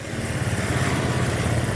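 An automatic grading machine for onions, lemons and garlic runs with a steady, loud mechanical drone, like a small engine. Its rough, constant hum continues throughout, with no talking.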